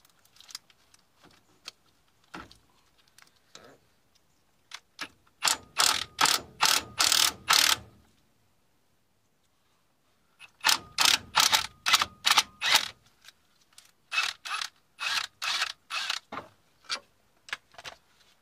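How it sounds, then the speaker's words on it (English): Impact gun on a 15mm socket breaking loose and spinning out the pinch bolt that holds the front shock on a 2005 Ford Transit Connect, heard as two close, loud bursts of rapid ratcheting hammer blows separated by a pause. "Now to remove this pinch bolt here that holds the shock in place. It's a 15mm socket. I'm going to use an impact gun on that again"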